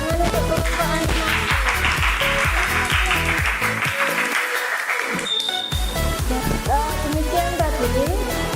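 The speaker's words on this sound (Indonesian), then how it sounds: "Ya, tepuk tangan untuk kelompok animasi." Audience applause for an animation group at a school event, a steady noisy patter heard over loud rhythmic music with a strong beat.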